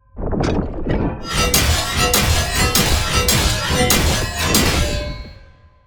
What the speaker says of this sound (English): Let's listen to all of the sounds with the perfect block.